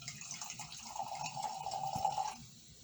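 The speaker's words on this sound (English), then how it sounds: "I'm going to pour for tasting" White wine poured into a glass for tasting, a thin continuous trickle and gurgle lasting about a second and a half, close and quiet with no talking.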